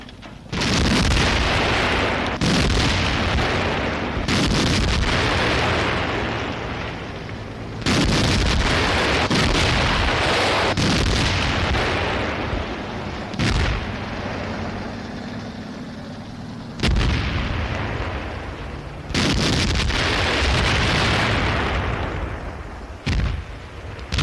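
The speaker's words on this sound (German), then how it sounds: "Der Weg führt an schweren deutschen Batterien vorüber, die seit dem Morgengrauen starke Grenzbefestigungen sturmreif schießen." Heavy German artillery batteries pounding border fortifications, with repeated loud, booming gun reports and blasts at irregular intervals over about twenty seconds, each followed by a rumbling tail, with no voices.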